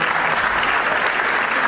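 Steady audience applause fills a debate hall, dense and continuous clapping from a crowd at full strength throughout, with no break or voice standing out.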